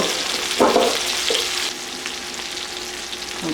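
Lamb loin chops frying in a pan with garlic and fresh oregano make a loud, steady sizzle. It opens with a brief clatter of stirring and then settles into a continuous hiss.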